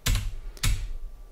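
Two sharp key presses on a computer keyboard, the up arrow key tapped twice about half a second apart, close and clear in an otherwise quiet room.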